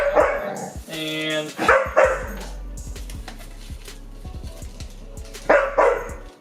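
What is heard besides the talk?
dog Archer barking at the fridge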